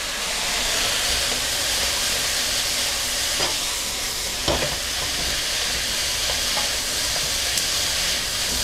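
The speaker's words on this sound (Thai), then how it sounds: "เปิดไฟแรงผัดไปได้เลยนะครับผัดให้กลิ่นหอมของผักมันออกมานะครับ" Vegetables stir-fry on high heat in a pan for pork stew, giving a loud, continuous close sizzle with a few faint clicks of stirring scattered through.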